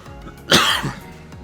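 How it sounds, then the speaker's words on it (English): A single sharp cough from someone commentating a Madden 20 session, close to the microphone, followed by a softer trailing rasp. "I just coughed there"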